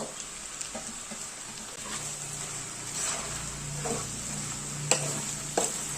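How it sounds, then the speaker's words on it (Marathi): Chopped vegetables stirred into fried onion-tomato masala in a pan for traditional Bhogi bhaji, with quiet scraping and soft sizzling, a few sharper spoon knocks near the end, no talking. "आता आपण ती भाजी काढून ठेवली होती ती भाजी टाकून घ्यायची"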